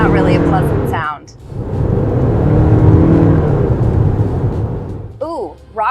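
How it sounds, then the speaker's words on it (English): A 2026 Toyota RAV4's gas engine roars under hard acceleration, a steady, fairly loud drone that swells and holds for several seconds, with a person talking just before and after. "when you really put your foot into it and you get going, you can hear that gas engine really kick in"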